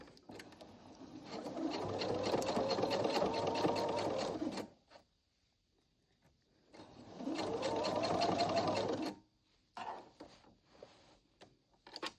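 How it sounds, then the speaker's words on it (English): A sewing machine stitches a pillow seam in two sustained runs of steady, rapid motor whirring, each about four seconds long, separated by a quiet pause and followed by brief handling clicks. "We'll sew here, and we'll leave that opening."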